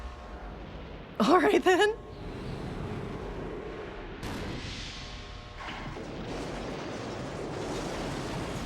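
A video game explosion in Resident Evil 0 bursts loudly for under a second, then leaves a lingering rumble and roaring debris under a brief spoken remark.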